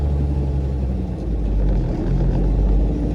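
A Ford Falcon's engine runs steadily while the car drives, just after a new fuel pump was fitted, giving a loud, continuous low rumble that stays even throughout with no voices over it.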